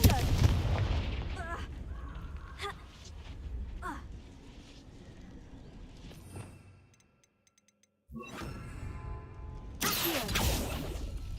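Confringo fire-blast spells in the video game Hogwarts Legacy go off in a string of loud booming explosions and whooshes, with a brief near-silent gap partway through before more blasts and a heavy rumble at the end.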